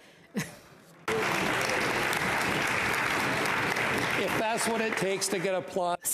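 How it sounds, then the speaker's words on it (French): Senators applaud in the Senate chamber, a sustained burst of clapping that stops abruptly, with a voice speaking briefly before and after it. "Si c'est ce que je dois faire pour euh, recevoir des applaudissements, je suis très heureux."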